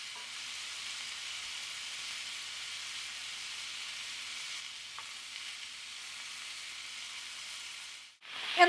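Vegetables frying steadily in a pan, a continuous close sizzle with no talking, ending in a brief clatter.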